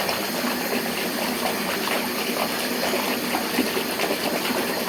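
Water runs steadily into a bath being drawn for bubbles with Lush bath products, a continuous broadband gushing and splashing at constant level with no voices.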